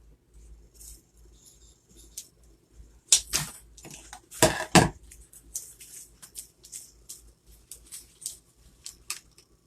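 Scissors snip through pine wreath material in a few close, crisp cuts around the middle, then lighter rustling and small handling clicks of greenery follow.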